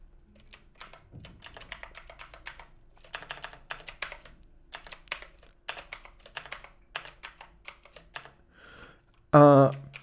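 A computer keyboard is used to type a PowerShell command on Windows, giving bursts of rapid close key clicks in short rhythmic runs that end with a louder keystroke for the enter key.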